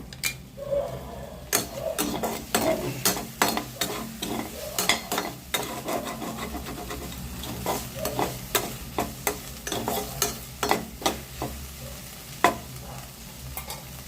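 Okra sautéing in oil, stirred steadily with a spoon in a pan: a soft sizzle under a quick, repeated series of sharp scraping knocks, near and fairly even in rhythm.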